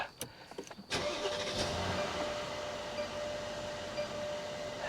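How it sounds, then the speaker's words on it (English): A 2014 Mercedes S550 engine with timing problems cranks briefly, catches, and settles into a steady idle, heard alone and fairly close. "let's fire it up."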